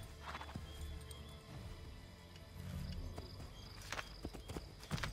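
Horse in the video game Assassin's Creed 3 on Xbox 360, hooves clip-clopping steadily with a couple of neighs and whinnies over a busy background of game ambience; no talk.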